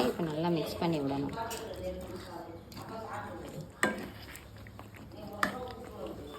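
Potato pieces stirred into a simmering potato kurma in a pot, with soft scraping and sloshing of the spoon against the pot under a voice talking throughout, plus a couple of sharper clinks.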